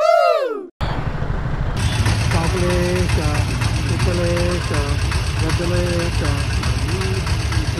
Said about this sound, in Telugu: బెంగళూరు ట్రాఫిక్.